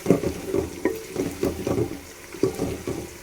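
Onion sautéing in oil while being stirred in a pan for a kadhi pakora dish, with soft irregular scraping and sizzling strokes at close range, fairly quiet and without talk.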